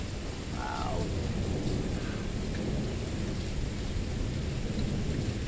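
A thunderstorm rumbles with constant low, heavy roaring thunder and steady rain wash throughout, loud and close, with a faint voice briefly audible.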